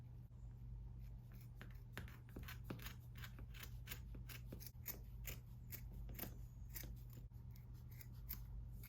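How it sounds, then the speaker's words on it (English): Scissors snipping through fabric just above the hemline while cropping a top, with a rapid run of close, crisp cuts over a low steady hum and no talking. "I'm just gonna be cutting right above the hemline."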